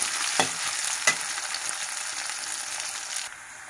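Onions fry to brown in a pan with a constant bright sizzle, and two sharp stirring scrapes cut through early on before the hiss settles and drops slightly near the end.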